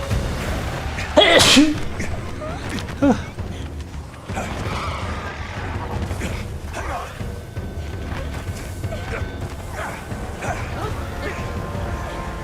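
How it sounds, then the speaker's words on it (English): One sudden, loud sneeze cuts through a noisy room tone early on, followed by a steady wash of background noise and faint activity. "I gotta sneeze!"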